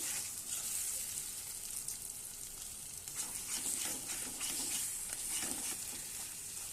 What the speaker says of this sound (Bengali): এই যে 3টে ডিম আমি এর মধ্যে দিয়ে দিয়েছি। এবার একটু একটু নাড়াচাড়া করে দিচ্ছি।